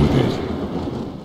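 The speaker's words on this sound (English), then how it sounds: "Lightning." A lightning spell in the Warcraft 3 Reforged video game brings a dense, rumbling roll of thunder that stays loud and fills the whole short moment.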